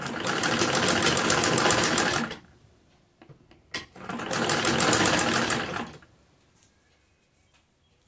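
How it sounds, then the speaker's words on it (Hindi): An electric sewing machine runs in two steady bursts of fast, even stitching along the edge of a fabric sleeve, with quiet handling sounds and pauses between runs. "किनारी से इस तरह सिलाई लगाएंगे"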